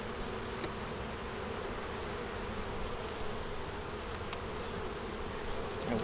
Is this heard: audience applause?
no